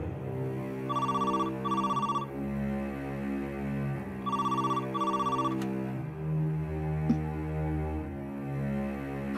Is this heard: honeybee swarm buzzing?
no